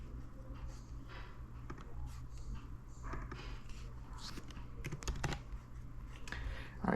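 Typing on a computer keyboard gives a steady run of soft, close key taps over a faint background hum, with a few louder clicks toward the end.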